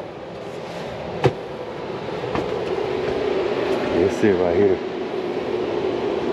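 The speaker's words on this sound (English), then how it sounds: "Train." A low, steady rumble of a passing train in the background, with the hum of an air conditioning unit's blower motor and a person speaking briefly.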